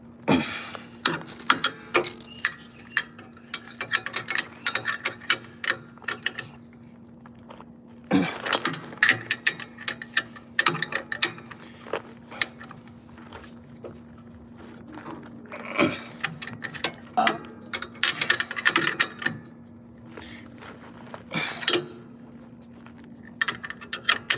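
A ratchet cranks down bolts fitted with new lock washers on the drum of a sealcoat trailer, sounding as repeated bursts of close metallic clicking and clanks over a faint steady hum, with no talk.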